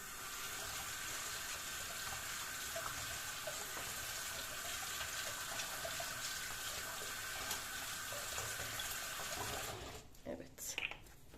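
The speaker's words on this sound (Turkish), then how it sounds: "Şimdi şu kapaklarını da hemen yıkayayım." Steady hiss of running tap water as plastic oil-bottle caps are rinsed under it, close and continuous for most of the clip before the flow cuts off and a few knocks and splashes follow.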